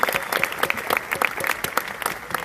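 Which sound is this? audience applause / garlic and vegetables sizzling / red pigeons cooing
audience applause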